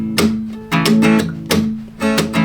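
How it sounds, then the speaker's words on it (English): Acoustic guitar strummed with a pick while the palm rests on the strings, giving four muted, percussive down-strokes in a steady rhythm, close and without voices. "if you let your palm go down on the strings every time you do a down strum with your pick, it'll make a sound like this"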